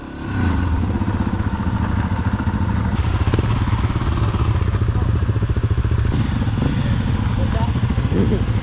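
Dirt bikes ride a short trip to town in Idaho, a loud, close, continuous engine drone with rapid throbbing pulses and occasional clatter, while people talk over it.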